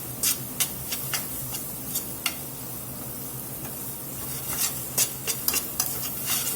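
A spoon stirs chicken pasta sauce in a pan over gentle sizzling, with sharp scraping clicks against the pan in irregular bursts, close and fairly quiet, no voices.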